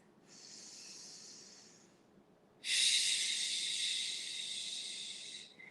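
Two long, close breaths during a yoga stretch: a softer airy inhale, then a louder, stronger hissing exhale.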